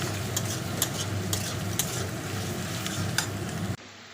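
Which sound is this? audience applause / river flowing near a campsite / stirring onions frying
stirring onions frying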